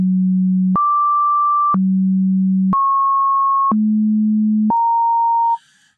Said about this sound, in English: what we're getting there is kind of an unpredictable sample of the sine wave at that point.